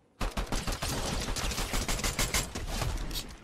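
Pistol gunfire in Fortnite, a loud, rapid string of close shots in quick succession with many sharp cracks overlapping throughout.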